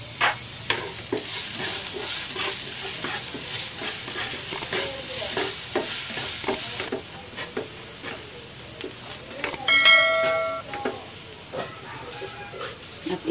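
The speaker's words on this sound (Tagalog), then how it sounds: "Igigisa ko muna itong bawang." Garlic sautés in hot cooking oil with a loud, continuous sizzle and repeated scraping clicks of a utensil stirring, easing slightly midway, then a brief clatter and faint chirping tones near the end.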